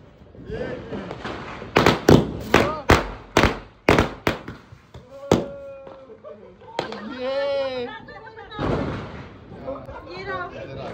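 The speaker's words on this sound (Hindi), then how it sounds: "मैंने कहा था ना रोनी गंदे बम फोड़ता है।" Firecrackers burst during Diwali celebrations, a quick run of about eight sharp, loud bangs close by, followed by voices and chatter.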